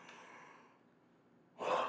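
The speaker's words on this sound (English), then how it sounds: "Yawn. Sorry guys, I'm tired." A tired yawn, a long drawn-out exhale that fades off, followed by a sharper, louder breath at the end, close and alone with no talking.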